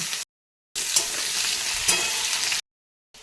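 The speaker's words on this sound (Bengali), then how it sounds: "সেই কড়াতে আবার তেল দিয়েছি তেল দিয়ে গরম হয়ে তেলটা পটলগুলো দিয়ে দেবো পটলগুলো ভেজে আমি তুলে নেব" Pointed gourd (potol) frying in hot oil in a wok, a steady close sizzle with occasional stirring scrapes, broken by short silent gaps at the start and end.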